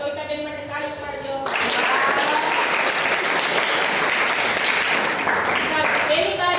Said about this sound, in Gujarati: તાળી પાડજો